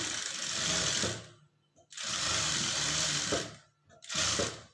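Sewing machine stitching a blouse patti, running in three steady bursts of rapid mechanical clatter separated by short pauses, close and alone.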